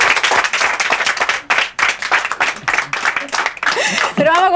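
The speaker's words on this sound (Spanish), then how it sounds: "Un aplauso para el mago Giovanni" Studio audience applauding a magician named Giovanni on a Chilean TV game show, dense clapping that runs throughout and fades as a voice begins talking near the end.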